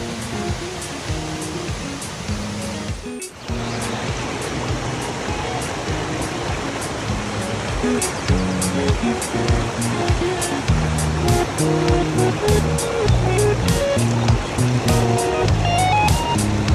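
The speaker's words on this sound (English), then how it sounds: "Oh, I love waterfalls." Continuous loud rush of a waterfall and flowing water in Kerala, steady throughout with a brief dip early on, overlaid by faint tonal sounds and occasional clicks.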